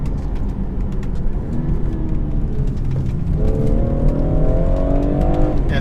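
A 2016 BMW 440i Cabriolet with the B58 engine pulls hard at full throttle, its steady engine roar climbing in pitch and growing louder near the end, heard from inside the car with no talking.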